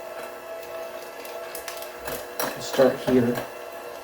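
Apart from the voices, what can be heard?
electric mixer on low mixing lime Jell-O into Cool Whip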